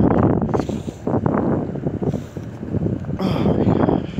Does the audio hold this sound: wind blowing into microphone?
yes